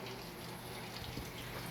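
Water pouring steadily into the drum of a Whirlpool washing machine during its fill cycle, a constant rushing hiss with no breaks and no talk over it.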